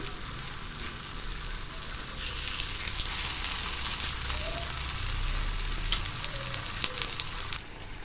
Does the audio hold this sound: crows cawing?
no